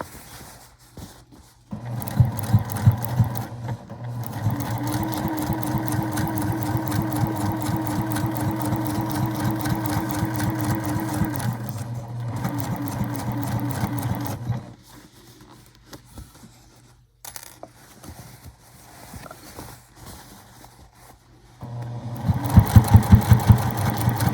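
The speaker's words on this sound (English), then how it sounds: "just sew it all the way around" A sewing machine stitches a French seam around a tote bag in long steady runs of rapid mechanical chatter, pausing briefly in between before stitching resumes.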